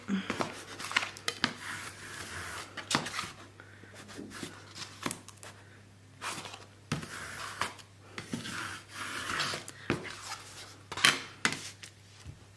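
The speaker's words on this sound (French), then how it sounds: "Puis je marque déjà un petit peu les plis ici." Paper folds for a scrapbook spiral mini-album are creased by hand, giving a string of soft, close crinkling scrapes and taps in irregular bursts, with a low steady hum beneath.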